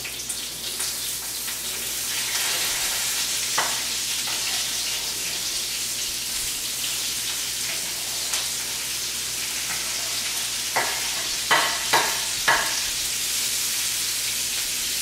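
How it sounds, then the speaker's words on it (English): Scallions, garlic and diced onion frying in bacon fat make a steady, close hiss and sizzle, with a few soft clinks and taps of a utensil against the pan near the end. "into that bacon fat is going to go our one bunch of scallions and our garlic and our onion"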